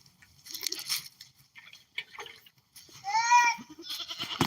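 A nearby goat lets out a single clear, quavering bleat after a stretch of scattered rustling and splashy noises.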